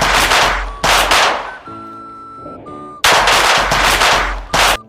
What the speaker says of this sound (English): The sound of firecrackers.